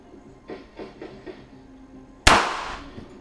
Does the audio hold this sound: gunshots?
yes